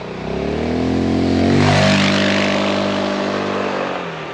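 A 2022 Honda ADV350 scooter's engine cranks and fires from the start button, rising into a loud, close, steady idle that holds to the end.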